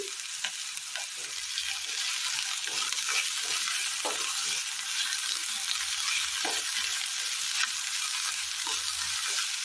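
Okra fries in a pan with salt, giving a steady, loud sizzle with crackles and brief stirring scrapes throughout, no voices.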